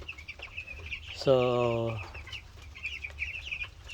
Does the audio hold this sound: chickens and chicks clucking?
yes